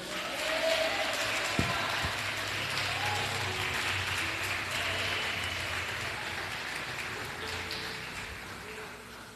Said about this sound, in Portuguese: As palmas que louvem ao Senhor.